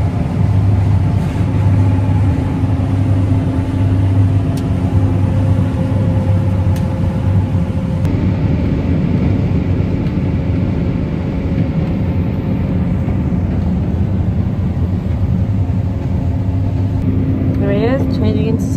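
A combine harvester runs at night with a loud, steady engine drone and mechanical rumble close by, as voices talk over it.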